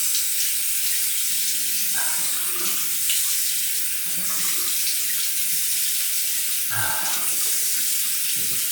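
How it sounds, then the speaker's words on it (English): Tap water runs steadily into a sink while a razor is rinsed under it, a loud close hiss with brief splashy changes as the blade moves through the stream. "Let me rinse up"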